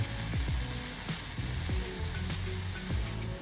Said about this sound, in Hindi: मैं इसमें ऐड कर दूंगा थोड़ा सा वाटर